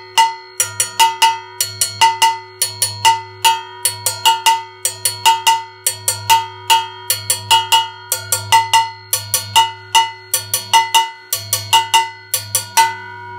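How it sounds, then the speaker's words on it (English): Mambo bell pattern on a cowbell at a drum set for an Afro-Caribbean lesson, a steady syncopated metallic clanking loop, close and loud, with a low bongo-like drum pulse beneath and no talking. "So this is going to be example six, the mambo bell pattern."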